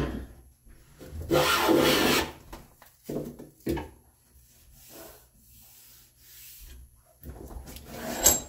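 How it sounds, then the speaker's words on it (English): A hand plane shaves across wood in several long rasping strokes, close and fairly loud, separated by short pauses and quieter scraping. "I'm just going to flatten it out. Just take a few shavings"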